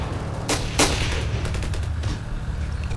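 Gunfire in the Ravenfield video game, a dense, steady crackle of distant shots with two sharper close cracks standing out near the start, over a constant battle rumble.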